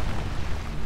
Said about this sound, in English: Explosion, baby!